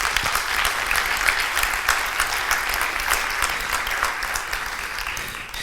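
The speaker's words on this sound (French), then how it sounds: "que l'on applaudit bien fort s'il vous plaît" Audience at a conference welcomes speakers onto the stage with sustained, dense applause, many hands clapping steadily and loudly throughout without a break.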